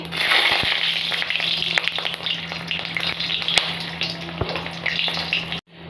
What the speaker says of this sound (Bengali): তো আমি এর মধ্যে একটু কালো জিরে ফোড়ন দিয়ে দেবো আর দিয়ে দিলাম একটা মরিচ